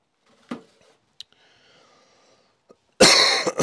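Flu-stricken coughing inside a stable: two short sharp coughs and a click in near silence, then a loud, harsh, rasping coughing fit close by.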